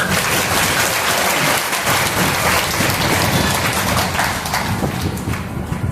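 Dense, steady clapping from a crowd at a Shrimad Bhagavat Katha at ISKCON Sonipat fills the whole stretch, loud and continuous without letting up.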